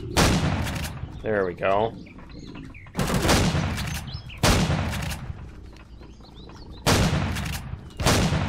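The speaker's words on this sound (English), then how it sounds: "Let's get our shotgun now." Shotgun blasts in the Empyrion video game come as four loud, booming shots spaced a second or two apart. Someone speaks briefly between them, and a chirping effect sounds early on.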